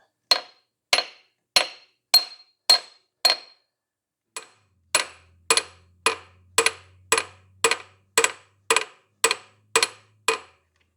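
A hammer strikes a socket on a Nissan Patrol TD42 harmonic balancer in a steady series of sharp, ringing blows, a short pause midway, then a faster run of hits, loud and close with no talking.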